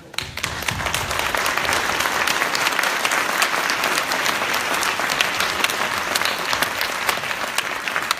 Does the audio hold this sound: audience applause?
yes